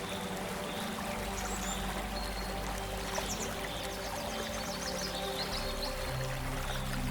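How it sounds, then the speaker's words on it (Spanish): Water of the Nile river splashes and laps steadily against the banks, a continuous moderate wash with faint trickling, heard alone without voices. "El sonido del agua salpicando contra las orillas les resulta familiar"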